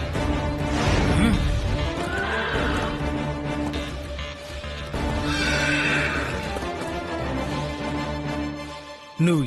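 A horse gives a loud, shrill neigh that is soon followed by a second whinny, over a steady clatter of hooves clopping close by.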